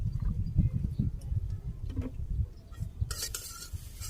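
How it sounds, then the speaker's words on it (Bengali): Turmeric and chili powder being stirred into water with a spoon to make a thin paste, close and fairly loud scraping and clinking in a bowl, with no talk. "এইটা আমি অনেক পাতলা করে গুলে নিব অনেক বেশি জল দিয়ে গুলে নিব পাতলা করে"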